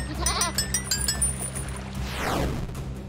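A goat in a video game bleats in a few wavering, nasal cries near the start, followed by a clinking sound and a sweeping electronic effect.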